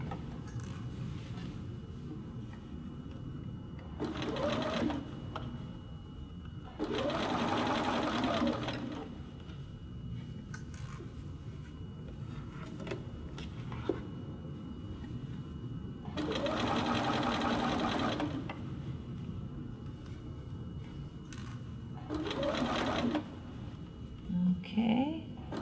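A sewing machine stitches the sleeve of a little girl's dress, size 3, in several short bursts of rapid whirring separated by quiet pauses, up close, with brief soft sounds of handling the fabric between runs.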